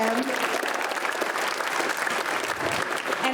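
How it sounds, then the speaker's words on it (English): The crowd at a high school winter concert breaks into steady, sustained applause for the drummer, with a voice audible under the clapping. "So big round of applause for him."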